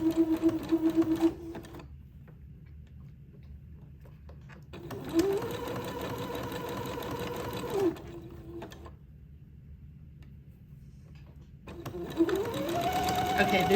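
A sewing machine runs in three bursts of steady whirring, zigzag stitching entredoux onto the side of lace to lengthen a dress, with quiet pauses between bursts.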